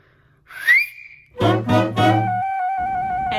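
A short rising whistle, then a quick burst of breathy, hoarse cries and a sustained higher tone ringing on afterward.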